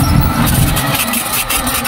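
Electric bicycle motor pulling up a steep hill, a steady close engine-like hum with a faint whine, continuous and loud throughout with wind and road noise mixed in.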